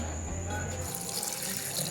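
Cold water pours steadily into a vessel for jaggery sherbet, a continuous splashing gush close by.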